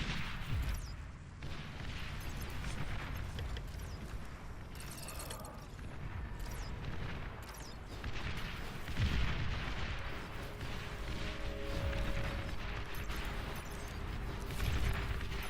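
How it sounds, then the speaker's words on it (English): Artillery fire in the real-time strategy game Beyond All Reason during a massive battle, with dense booming impacts and rumbling blasts layered continuously over a steady background of game action. "Artillery."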